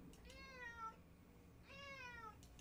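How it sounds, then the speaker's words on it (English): Two drawn-out cat meows, one early and one later, fairly close and clear, with a faint steady background hum and no talking. "It's a cat."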